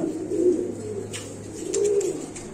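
Lahori pigeons cooing at a pigeon farm, two close, rolling coos about a second apart over a low constant hum.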